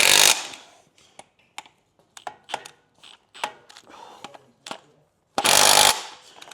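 Power tool tightening an engine mount bolt on a modified Mk4 Golf: a loud burst of impact-wrench hammering at the start and again near the end, with scattered ratchet clicks and metallic taps between them, close by.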